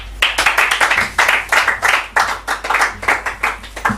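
Studio audience on a French TV comedy set claps to welcome the show's presenter, a dense, steady burst of applause with no talk over it.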